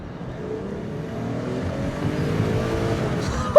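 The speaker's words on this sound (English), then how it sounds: "Oh, I just want to hear that 2JZ." A twin-turbo 2JZ engine in a Toyota Aristo sedan pulls hard in first gear, its steady, building drone rising gradually in pitch and loudness before a sudden brief burst at the end.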